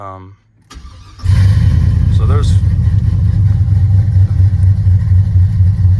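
A cammed 2002 Chevrolet Silverado pickup with a Texas Speed cam and a hard-starting habit cranks briefly, then catches into a loud, choppy, lopey V8 idle that runs steadily to the end while a person talks over it.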